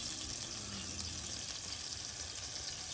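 Onions fry in hot oil in a pan, giving a faint, steady, even sizzle with no talking.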